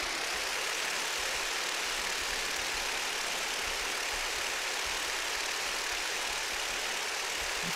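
Propeller airplane engine in the building game TerraTech, a craft with three propellers, droning as a steady, even broadband hum with no break for the whole stretch and no voices over it.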